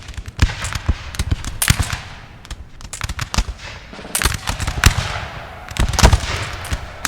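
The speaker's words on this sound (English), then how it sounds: "The Russians opening fire early on these Frenchies, trying to get the advantage on them." Russian infantry volleys in a Napoleon Total War re-creation of the Battle of Borodino, dense crackling musket fire in rapid overlapping bursts, loud and continuous like a string of firecrackers, with no voices.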